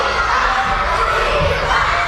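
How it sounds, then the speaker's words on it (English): Elementary school children cheer and scream together in a lunchroom, a loud, dense crowd roar of young voices that stays constant through the short stretch. "Sandwiches in hand, screams at the top of their little lungs."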